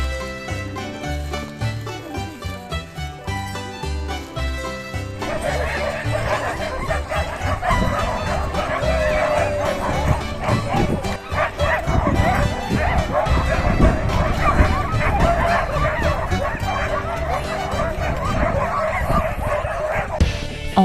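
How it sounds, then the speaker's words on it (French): Sled dogs in Tromsø bark and yip steadily, a dense pack chorus close by that keeps going without a break, with a thick, continuous layer of other sound running underneath. "Et ça c'était nos chiens bien braves."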